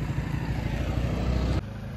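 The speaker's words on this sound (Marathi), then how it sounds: "अभि आमचा स्ट्रगल करतोय जरा बाईक व्यवस्थित पार्क करण्यासाठी" A motorcycle engine idles steadily at close range while the bike is being parked, giving a low, even rumble with no break across the short stretch.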